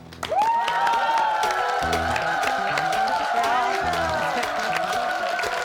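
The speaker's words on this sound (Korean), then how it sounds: "큰 박수로 환영해 주십시오." Studio audience at a Korean TV talk show applauds and cheers to welcome a comedian guest, a loud, sustained wash of clapping with whoops, while people talk and music plays over it.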